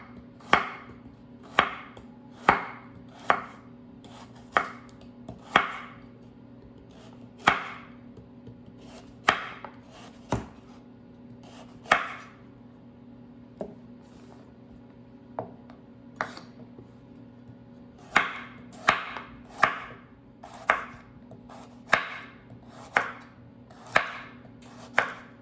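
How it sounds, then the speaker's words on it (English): Washed carrots sliced with a knife on a cutting board, sharp distinct chops in uneven bursts, some quick runs and some single cuts with pauses, close up over a steady low kitchen hum. "I have some carrots that have already been washed, and I'm going to slice them."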